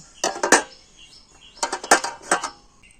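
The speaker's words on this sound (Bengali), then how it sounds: "এইভাবে একদম পাতলা পাতলা করে এটা স্লাইস করে নিচ্ছি" Mango sliced thin by hand on a slicer plate in a kitchen, giving close, sharp scraping strokes in two bursts of three or four quick cuts separated by a brief pause.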